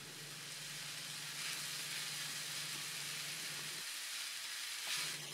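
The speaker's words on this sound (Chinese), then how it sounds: "生米直接下锅，这样翻炒一下。" Raw rice is stir-fried in a pan with broth and saffron, giving a soft, steady sizzle and hiss close by that briefly eases near the end.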